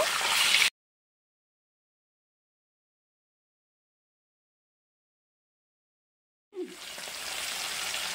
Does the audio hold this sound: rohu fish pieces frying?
yes